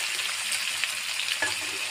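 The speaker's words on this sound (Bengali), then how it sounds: "এটা করে নাড়তে লাগবে মাংসটা অল্পটা। মাংস ভাজা আছে" Broiler chicken meat frying with salt, green chilli and spices in a pan, stirred steadily, giving a continuous close sizzle with a few scraping stirs and no talk.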